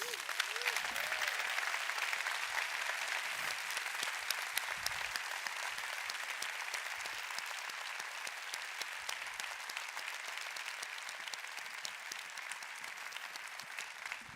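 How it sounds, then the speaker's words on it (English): Sustained applause from a large conference audience greeting Princess Laurentien of the Netherlands at a library congress opening, an even, fairly distant wash of many hands clapping for the whole stretch. "Can I please have a major applause for Her Royal Highness, Princess Laurentien of the Netherlands"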